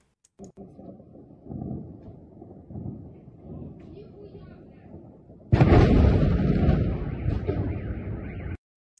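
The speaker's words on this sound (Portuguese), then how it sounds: "Grandes explosões ali em saque." Low rumbling booms from explosions at an air base in Saky, Crimea, roll on continuously, then a much louder, harsher burst of blast noise takes over before cutting off abruptly.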